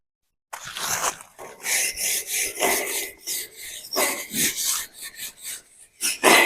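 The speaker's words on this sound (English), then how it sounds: "I'm gonna break up some sticks real quick and we're gonna get this going" Sticks are snapped and broken up by hand for a campfire outdoors, a series of close, dry cracking and rubbing bursts in an irregular rhythm.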